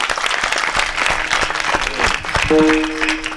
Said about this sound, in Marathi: अमर महाराज जोरात टाळी वाजवा गोड